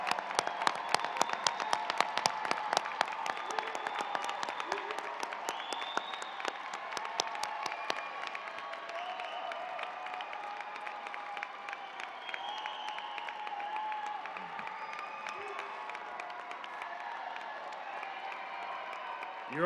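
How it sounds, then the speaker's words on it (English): A large crowd at a university white coat ceremony applauds the new recipients, a sustained sheet of clapping with some cheering that is densest early, then gradually thins while scattered voices murmur beneath it. "Let's give one more big round of applause for all these white coat recipients"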